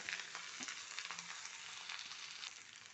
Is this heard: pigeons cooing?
no